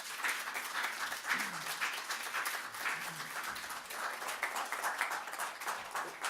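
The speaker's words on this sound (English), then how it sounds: "to bring our host back up on stage, Wooley, to take a round of applause" An audience at a women in government conference applauds its host, giving steady, moderately quiet clapping that carries on throughout, with a few brief voices calling out beneath it.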